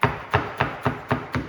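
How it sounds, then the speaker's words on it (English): A knife chops washed mint and coriander together on a board in six quick, evenly spaced, crisp strikes, close and clear with no talking. "So I've got washed mint and coriander here, so I'm just going to put them both together and give them a really quick chop"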